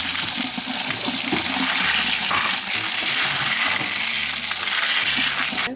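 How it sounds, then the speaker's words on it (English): Dry beans are rinsed under a running tap in a kitchen, a steady continuous rush of water with small clattering and rattling of beans throughout, loud and close with no talking. "So we'll rinse these real quick."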